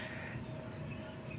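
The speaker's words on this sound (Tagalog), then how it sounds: "May kaunting sound pa yung sound ng kung tawagin nga sa amin ay kulilis" A dense, continuous high-pitched cricket trill fills the air, steady and unbroken with faint low background rumble underneath.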